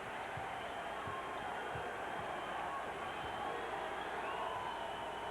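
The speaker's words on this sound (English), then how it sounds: "This crowd's trying to urge their team on defensively." A basketball arena crowd at a 1995 NBA playoff game between the Magic and Celtics roars steadily and faintly in the distance, a continuous wash of cheering with occasional ball bounces beneath.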